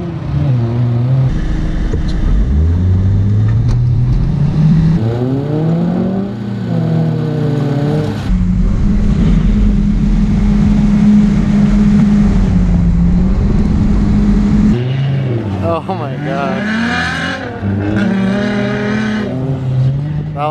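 A Mazda Miata rally car launches from the start line at a rally event, its engine revving hard with rising pitch as the tires spin and squeal, loud and close throughout.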